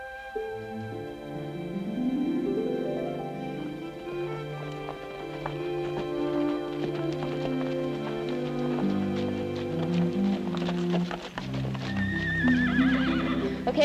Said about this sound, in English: And I'd like to see Mr. Sloan handle one of our Kansas horses